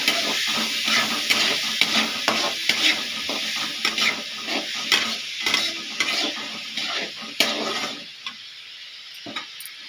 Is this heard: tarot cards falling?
no